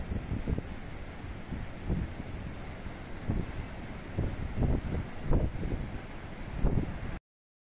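Strong poniente wind buffets the microphone at the seashore, a steady roar with repeated low gusts and surf surging underneath, loud and continuous with no talk.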